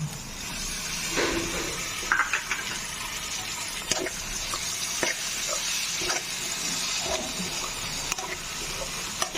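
Chopped tomatoes go into onions frying in a pan for a homemade whole masoor curry, bringing a steady sizzle with scattered scraping and stirring clicks throughout, close and continuous.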